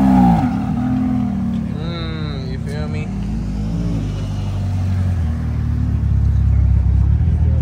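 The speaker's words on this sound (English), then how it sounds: "We got a Ferrari pulling in," Ferrari arriving at an outdoor car meet, a steady low engine rumble that swells gently as it rolls in, with people talking over it throughout.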